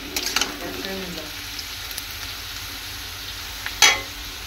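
Potatoes frying in hot oil before soybean chunks go in, a soft steady sizzle with a few stirring scrapes and a brief clatter near the end.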